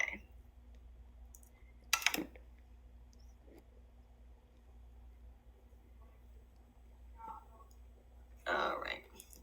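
A knife cutting strawberries and bananas, heard as a few sparse, faint clicks and taps on a board with quiet pauses between cuts and a soft rustle near the end.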